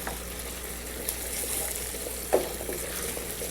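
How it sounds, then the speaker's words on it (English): Broccoli, carrots, spinach, corn, beans and cauliflower sautéing in a pan, giving a steady low sizzle with a faint stirring knock partway through, no voices. "Just saute it up for about another 10 seconds, like so."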